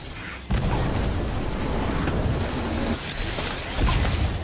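Hogwarts Legacy's Incendio fire spell, a sudden booming whoosh that erupts into a sustained roaring, crackling blaze, loud and close, with a second flare near the end.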